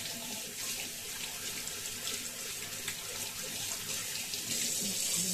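Water runs steadily from a kitchen tap in a continuous, even hiss with no pauses, close by and alone.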